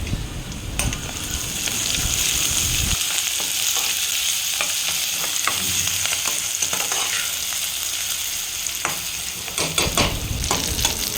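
Onions and curry leaves sauté in hot oil for a fish kuzhambu, making a constant close sizzle broken by repeated scraping stir strokes, with no talking.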